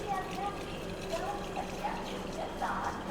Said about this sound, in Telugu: వాటర్ కూడా వస్తున్నాయి